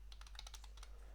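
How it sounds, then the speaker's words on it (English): Quick, light clicks of a computer keyboard being typed on, soft and close over a low steady hum. "we need to specify the type of the script by typing the Perl wrapper here"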